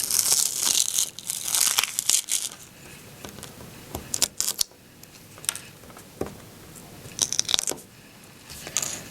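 Excess glitter heat transfer vinyl peeled off its carrier sheet during weeding, with close, repeated crinkling and tearing bursts broken by short pauses.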